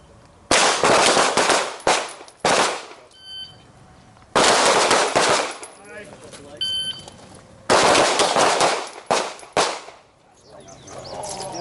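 Sharp, loud pistol shots crack in rapid strings at an outdoor shooting range, several volleys separated by short pauses, with a voice briefly audible between them.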